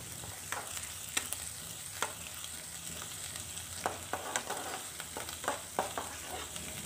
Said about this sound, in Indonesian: ditumis dulu bumbu halusnya ini kemudian dicemplungkan lengkuas dan juga daun salamnya kembali lagi ditumis sampai bumbunya ini matang